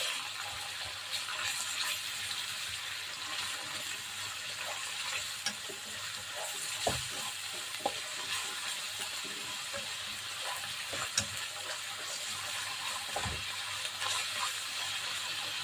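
Minced pork fries in a pan with a steady, close sizzle. Occasional knocks and scrapes from stirring cut through it every few seconds.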